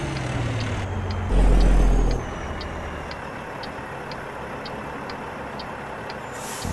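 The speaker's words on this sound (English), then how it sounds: "Let you listen to the sounds of this truck." Low steady engine drone of a Ford Aeromax truck in American Truck Simulator, rising briefly louder then settling, with a faint regular ticking like an indicator running throughout.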